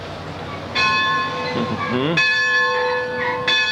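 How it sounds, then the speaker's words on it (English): A steam locomotive's bell rings close by at the Wilmington Railroad Museum in North Carolina, with three bright, ringing clangs spaced about a second and a half apart, each lingering briefly, while a person murmurs softly between strikes. "And here's the bell."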